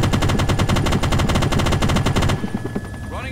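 Automatic machine gun fire in the military video game Arma 2, a loud sustained burst of rapid rounds that cuts off abruptly, leaving a quieter tail of echo and faint ambient noise.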